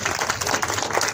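Audience applause at a religious festival gathering in Ratangarh, a dense, continuous patter of many hands clapping at once, steady and fairly loud throughout.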